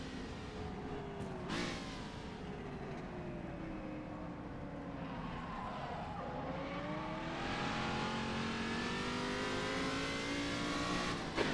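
Open-wheel race car in rFactor 2 on a 1967 Longford track, engine droning at high revs with rising and falling pitch through gear changes and a brief downshift blip, continuous and close.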